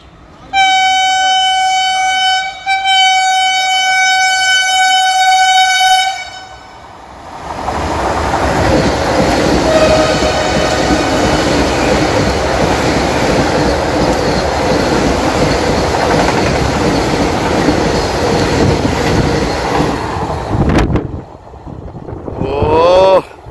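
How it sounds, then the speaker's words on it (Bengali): A Howrah–Puri Vande Bharat Express on its first trial run sounds a loud, sustained horn for about six seconds, then rumbles past close by with a steady, heavy roar of running wheels and carriages. "Howrah Puri Vande Bharat express first trial run."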